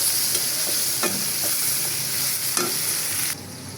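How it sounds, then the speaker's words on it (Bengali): Onions sizzle steadily as they fry in a pan, a continuous close hiss broken by a few light stirring scrapes, with the sizzle dropping off sharply near the end. "পেঁয়াজগুলো একটু লাল করে ভাজা হলে আমি অন্যান্য মশলা দিয়ে দেব।"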